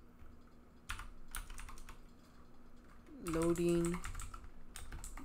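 Computer keyboard keys clatter in short bursts of typing, fairly close, with someone talking intermittently between and over the keystrokes.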